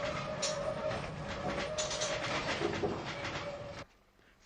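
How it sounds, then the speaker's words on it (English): A narrow-gauge tram on the tramway to Seaton, Devon, rumbles along steadily with faint rail clatter and a light squeal, then cuts off abruptly near the end. "A narrow-gauge tramway runs for 3 miles along part of the former railway branch to Seaton in Devon."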